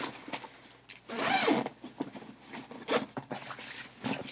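A bag's zipper is drawn in two quick close rasping pulls, with soft handling rustles between them, in a quiet room.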